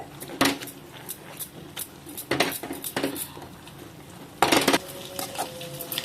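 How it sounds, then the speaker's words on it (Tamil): Cooked amaranth greens are mashed in a metal pot, producing several loud clanks and scrapes of the utensil against the pot with softer scraping between, close by. "இதுதான் நான் சும்மா ஒரு கடை கடைஞ்சி விட்றேன்"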